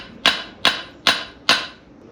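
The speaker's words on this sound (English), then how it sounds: "That's going to make my hammer rebound." A hammer strikes a London pattern anvil in a blacksmithing lesson, with four loud, ringing blows at an even, steady rhythm, each leaving a short decaying ring.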